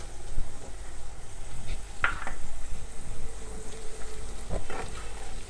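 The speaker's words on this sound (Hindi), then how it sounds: "प्याज को भी हम इसके साथ ही हल्का हल्का सा फ्राई कर लेंगे" Sliced onion sizzling in oil alongside okra for a dhaba-style bhindi keema, with a steady close frying hiss broken by occasional spoon stirs and light scrapes against the pan.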